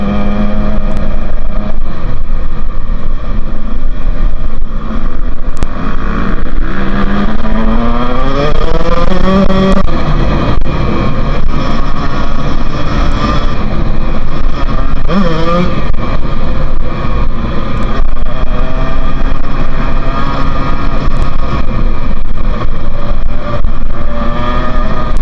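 A motorcycle rides along a road, its engine droning loudly and continuously with rising and falling pitch as it shifts through gears, accompanied by heavy wind rush.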